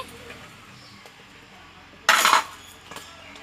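Spiced taro stolons tumble into a pan in one short, bright rattling burst lasting about half a second, followed by a faint clink amid quiet kitchen background.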